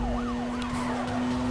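Police car sirens in the racing game Need for Speed Most Wanted, several overlapping wails sweeping up and down over a steady engine hum, loud and continuous without talk.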